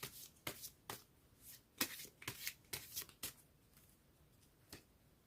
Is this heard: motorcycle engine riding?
no